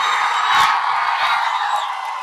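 A crowd of party supporters at a political meeting shouting and cheering, a loud sustained roar of voices with a few rising whoops, continuous through the short moment.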